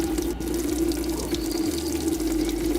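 Petrol being poured into a car's fuel tank in the video game A Dusty Trip, a steady, unbroken liquid gush lasting the whole moment at an even, fairly loud level.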